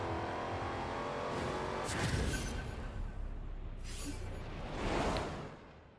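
Dodge Charger SRT Lucifer, a 1.9-tonne sedan, roars through a Forza Horizon 4 quarter-mile drag race against Mustangs, its engine note loud and sustained with two surging whooshes of cars rushing past.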